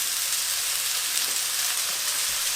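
About 400 grams of onions fry with cinnamon sticks, bay leaves, cumin seeds and mustard seeds, making a dense, even hiss that is loud, close and unbroken, with no talking.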